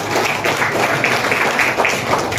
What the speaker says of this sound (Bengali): একটা ভীষণ হাততালি ওনার জন্য।